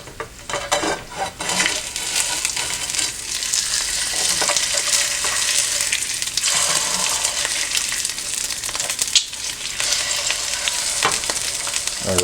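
Eggs frying in oil in a pan on a stove, a loud, steady crackling sizzle with sharp spitting pops as the fat splatters, and a few faint clinks of a utensil against the pan.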